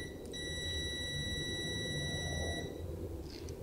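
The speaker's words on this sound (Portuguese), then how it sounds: "aqui a função de buzzer, continuidade" A Hikari HM 2030 digital multimeter's continuity buzzer holds a steady high-pitched electronic beep for a few seconds, then stops, over a faint low background hum.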